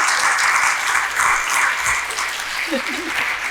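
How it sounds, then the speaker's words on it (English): A live audience gives a sustained round of applause for a woman on stage, with thick, continuous clapping that keeps an even level throughout. "Let's give her another round of applause."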